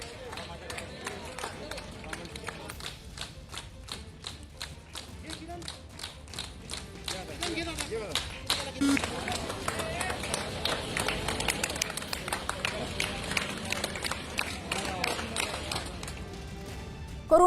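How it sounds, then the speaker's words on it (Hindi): Hospital staff clapping together to see off a recovered patient leaving for home, a rapid run of sharp hand claps that grows into fuller, denser applause, with voices talking over it. "मरीज के ठीक होकर घर जाने के वक्त अस्पताल के कर्मचारियों ने कुछ इस तरह से तालियां बजाकर उनको विदाई दी"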